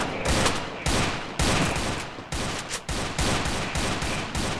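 Rapid automatic gunfire from the Free Fire video game rattles in several sustained loud bursts separated by brief gaps, with no voices over it.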